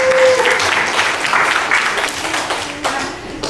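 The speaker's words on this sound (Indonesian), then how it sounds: "Kasih aplaus untuk kelompok." Classroom applause for a student group, a burst of many hands clapping steadily, loud and close, with a brief voice at the start.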